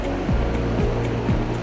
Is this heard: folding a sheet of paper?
no